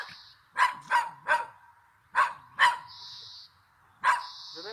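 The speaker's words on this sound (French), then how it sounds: "il y a le chien des voisins qui aboie" The neighbours' dog barks nearby in two bursts, three sharp barks followed by two more after a pause, then a single bark, with a faint whine in between.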